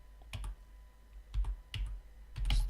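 Computer keyboard typing JavaScript code in short bursts of quick clicks separated by pauses, close and fairly quiet, with no talk.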